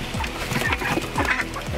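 Homestead ducks and chickens squabble close by while being fed spoiled produce, with dense overlapping clucks and quacks throughout.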